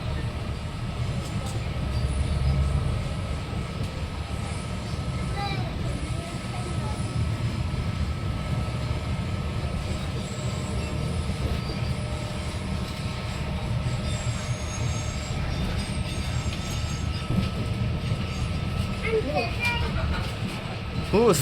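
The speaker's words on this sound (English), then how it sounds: "There's another train, the other side." A Translink train rumbles along the rails to Bangor out of Great Victoria Street Station, with steady low wheel and track noise, faint squeals and a brief rush as another train passes on the opposite line; occasional voices talk over it.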